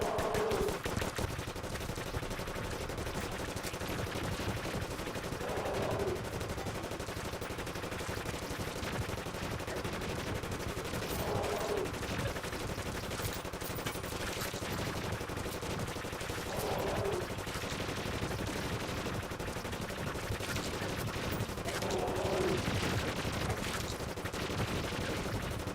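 Pistol gunfire in the video game Terraria during the Wall of Flesh boss fight runs as a steady, moderately loud crackle of rapid shots over a busy game soundtrack, with a periodic sound recurring about every five seconds.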